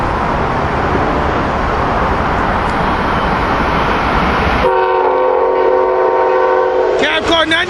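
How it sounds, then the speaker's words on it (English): Amtrak Keystone passenger train with a cab car leading rumbles loudly past at close range, then a sustained horn blast sounds in the second half, with a brief rattle near the end. "Here we got Amtrak ACS 60, actually Amtrak Keystone Train"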